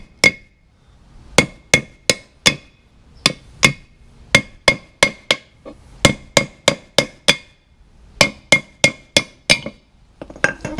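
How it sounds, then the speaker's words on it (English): Press-in wheel studs are hammered out of a Dana 44 hub with sharp, ringing metal blows, close and loud, falling in quick irregular bursts of strikes with short pauses. "I'm just going to take a hammer and hammer these out"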